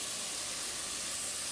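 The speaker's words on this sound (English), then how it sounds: "So you'll start to hear that sizzle" Penang curry paste sizzles in a warm pot while cooking for a prawn curry, a steady, close, bright hiss that holds evenly throughout without pause.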